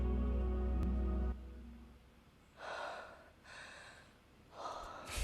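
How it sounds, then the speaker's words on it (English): Heavy breathing from a film about a woman swimming in the sea, a few deep, rushing breaths in a slow rhythm after a low rumbling opening, fairly close and without talk. "There's going to be some heavy breathing at the beginning of this"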